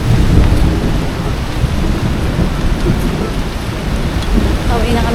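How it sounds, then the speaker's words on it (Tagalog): Heavy rain pours loudly near a waterfall along a river crossing, a dense, constant roar with low thunder rumbling through it and no voices. "Pero ngayon nga umuulan."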